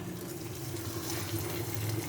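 Dal puri, a lentil-stuffed flatbread, frying in hot oil in a home kitchen gives a steady, close hiss with a low hum beneath it, running unbroken throughout.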